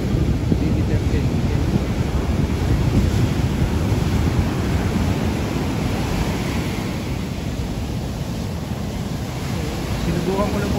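Loud, continuous roar of strong ocean surf crashing steadily on a beach at Puerto de San Juan, with gusty wind buffeting the microphone throughout.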